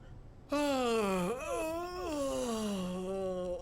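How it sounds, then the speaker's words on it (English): A character in Final Fantasy X HD lets out a long, drawn-out yawn that rises then falls in a voiced moan, heard alone and close for about three seconds. "Stop yawning, you're making me yawn."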